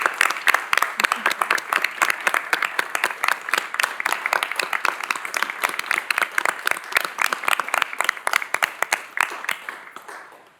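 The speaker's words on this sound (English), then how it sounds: "Please join me in applauding our future commissioners." Audience applause at a Knox County, Tennessee county commission meeting honoring junior commissioners: dense, steady clapping from many hands lasting about ten seconds, close and lively, tapering off at the end.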